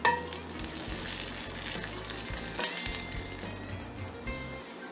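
Six or seven strips of homemade buckboard bacon fry in a pan, giving a steady close crackling sizzle with scattered sharp pops throughout, no voices over it.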